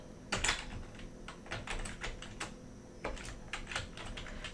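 Fingers tap out a short phrase on a computer keyboard, a quiet, close run of uneven keystroke clicks in small bursts with brief pauses, and no talking.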